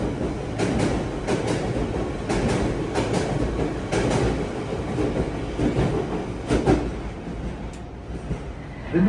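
A refurbished London Underground Central Line 1992-stock train bound for Epping runs through a tunnel. A steady, rumbling roar carries rhythmic clickety-clack wheel beats and faint squeals, with no announcements or voices.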